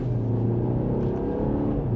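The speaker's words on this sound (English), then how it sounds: "We do have the iconic sounds on at the moment, which is some piped in exhaust notes that come through the speaker" Steady low engine drone with a deep, even exhaust rumble piped through the speakers inside a 2025 BMW X1 xDrive28i cabin, constant and moderately loud, no voices.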